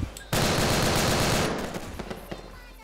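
Machine gun fire erupts in a video game, a loud close sustained burst of rapid shots lasting about a second, then fading into scattered trailing pops.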